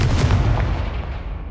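A Confringo fire blast spell cast in the video game Hogwarts Legacy gives a loud, booming burst that decays over about a second and a half, heavy in the low end like an explosion or cannon shot.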